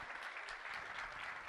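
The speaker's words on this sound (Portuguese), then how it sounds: "Uma salva de palmas para você." Sustained audience applause at a business summit talk show, a dense steady wash of clapping filling the whole moment without pause.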